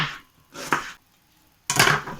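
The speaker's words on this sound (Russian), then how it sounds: "Нарезаем красный лук." A knife chops through red onion on a board in a few separate crisp bursts, close and fairly loud, with quiet gaps between strokes.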